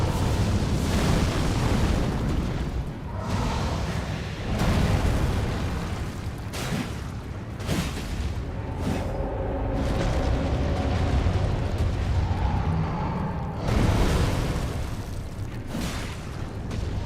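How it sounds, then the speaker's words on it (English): A Fire Giant's fireballs explode in Elden Ring, a continuous roaring barrage of heavy booms and crackling blasts that swell and overlap for the whole stretch, loud and near. "he's dropping more fireballs"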